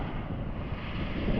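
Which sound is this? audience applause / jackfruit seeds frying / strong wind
strong wind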